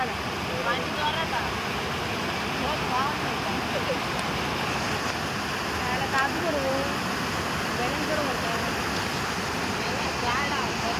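Water rushes forcefully over a weir where people are fishing, making a loud, constant roaring wash that fills the whole stretch with no pauses, while voices murmur faintly underneath.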